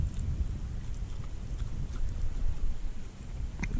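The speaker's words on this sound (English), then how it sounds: "This wind is really starting to piss me off." Strong wind buffets the microphone out on the water during kayak bass fishing, a steady loud low roar with gusty swells and no break across the whole stretch.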